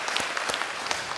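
A church congregation claps during a Sunday worship service, a brief, fairly quiet burst of scattered individual claps over about a second, with no talk.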